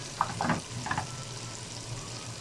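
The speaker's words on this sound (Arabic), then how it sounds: "نزلت بقى عليه بالعدس، اشوح برده تشويحتين كده فيه، اديله تشويحتين كده مع الخضار" Lentils stirred into sautéed vegetables in a hot pan, giving a soft, steady sizzle with a few brief scraping stirs near the start, fairly quiet.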